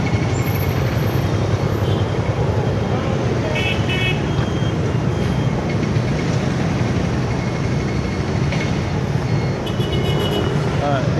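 Night street traffic in Saigon, with a yellow airport bus running from Tan Son Nhat airport into the city centre, makes a dense, continuous roadway roar with occasional horn toots, while a person talks over it.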